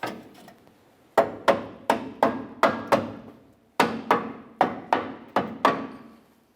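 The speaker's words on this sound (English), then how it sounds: "you just have to give it a couple loving bonks to make sure it's secured" Hammer blows drive a transmission mount into place on a 2001-2005 Ford Explorer Sport Trac: one short run of five sharp, close, ringing knocks, a pause, then another run of five. No one speaks.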